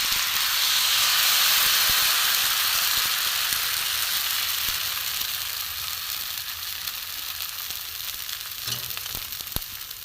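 Thin rice-flour batter for chakli pitha sizzles steadily on a hot pan, a loud, close frying hiss that gradually softens over time, with no talking.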